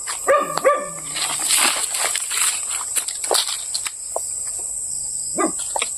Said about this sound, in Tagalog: Dito ng aso mga idol.